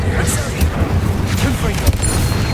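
A Confringo explosive spell cast in Hogwarts Legacy bursts amid dense, continuous game combat noise: booms and crackling blasts layered under a busy, loud mix with a sharp hit near the end.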